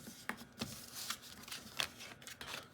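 Playing cards flipped over one at a time on a blackjack table, giving a few soft, scattered snaps and slides close by with quiet gaps between them.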